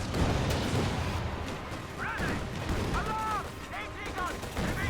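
Machine gun fire in Company of Heroes 2, a real-time strategy war game, as dense continuous battle noise with bursts of gunfire and explosions under the game's sound mix, with short voice-like calls cutting through.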